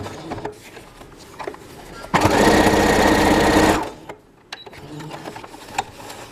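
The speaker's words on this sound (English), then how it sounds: "now I'm gonna stitch the lining part" Sewing machine stitching denim from old jeans while making a sewing machine cover, a steady loud whirring run of about a second and a half between quieter handling noises.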